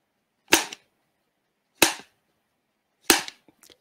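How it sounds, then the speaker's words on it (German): A film clapperboard snapped shut during a university lecture: three sharp, clean claps about 1.3 seconds apart, each with a brief ringing tail, alone in a quiet room. "wir schlagen mal die Klappe und dann schauen Sie mal, wann Sie die Klappe sehen und wann Sie sie hören"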